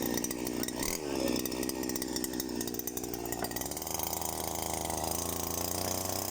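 Grass cutter engine running during a test, a continuous buzzing two-stroke whine with rattling mechanical texture, fairly faint and steady throughout with no talk.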